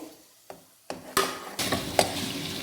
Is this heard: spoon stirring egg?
yes